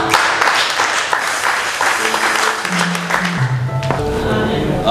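Church congregation applauding and calling out acclamations at a worship service, dense broadband clapping mixed with raised voices and sustained cheering tones, loud and continuous throughout.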